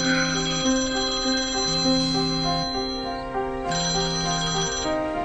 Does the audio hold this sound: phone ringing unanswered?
yes